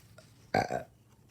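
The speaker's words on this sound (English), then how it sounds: "Oh, excuse me about the burp." A single short burp, fairly close, surrounded by near silence and faint background noise.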